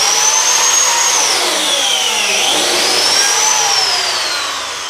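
Biscuit joiner plunge-cutting into half-inch wood stock: a loud, close, high motor whine that holds steady, dips in pitch as the blade bites into the wood and then recovers before tapering off.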